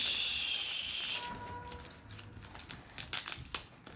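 Crinkly plastic wrapper of a Brawl Stars trading card pack rustling and crackling, starting soft and building to a burst of sharp crackles near the end, close by with no talk.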